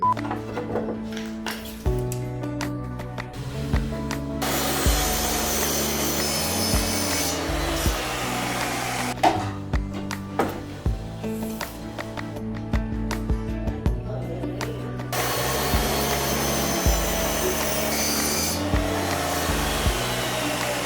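A power saw cutting wood for a DIY CNC table roars in two sustained bursts, loud and close, set against background music that plays between and beneath the cuts.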